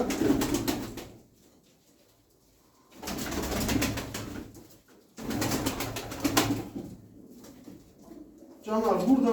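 Arab breed pigeons coo in a loft during moulting season, the sound coming in several loud bursts with quieter gaps, mixed with someone talking nearby.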